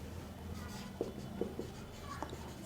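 Handwriting with pen on paper while working a maths problem: soft, close scratching with a few light taps against a faint room hum.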